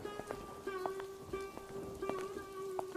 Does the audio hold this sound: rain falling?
yes